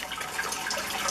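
Water drains steadily from a Grainfather all-grain brewing system, a continuous soft trickling and gurgling rush heard up close, with no voices.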